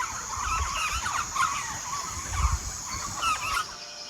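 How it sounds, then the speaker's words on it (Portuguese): Japó birds calling at dawn in a misty forest, a chorus of harsh, honking, repeated calls from several birds at moderate distance, steady for a few seconds before cutting off. "De longe se ouve o canto dos pássaros japó a anunciar o dia"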